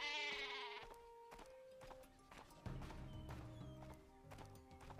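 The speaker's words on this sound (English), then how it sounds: "We'll send a sheep over there." A sheep weapon in the Worms Battlegrounds video game, with a short, high bleat over busy, tonal game music and effects.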